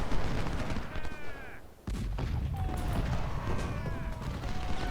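An artillery volley in the Ultimate General: Civil War game during the First Bull Run battle, with booming shots and crackling fire layered over constant battle noise and a few whistling tones.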